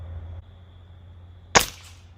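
A single sharp crack from a Ruger Air Hawk Elite II air rifle, loud and close, following a low steady hum and then quickly dying away.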